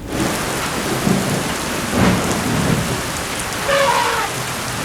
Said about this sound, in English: When the brief rains arrive between December and March, the Serengeti awakens.